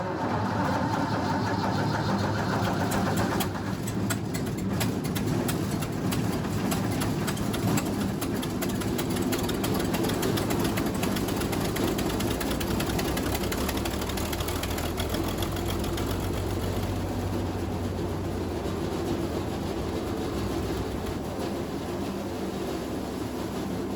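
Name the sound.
engine running after being given fuel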